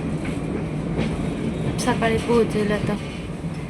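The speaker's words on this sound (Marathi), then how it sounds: "निघाली आता ट्रेन." A train pulling out of a station on a journey home from Nagpur, its low rumble and rail noise running steadily beneath someone talking throughout.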